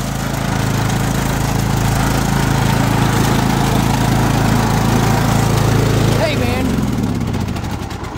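A lawn mower engine runs loud and close as someone rides off on it, a steady throaty drone that shifts slightly in pitch near the end as it moves away.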